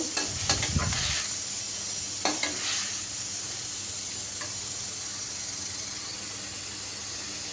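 Leafy greens frying in a pan as they are stirred, a steady close sizzle with a few scraping stirs near the start, continuing alone and fairly quiet.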